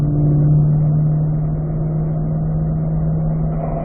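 A car engine holds a steady, loud drone in fourth gear on a race track, a continuous mid-pitched hum with no breaks or voices.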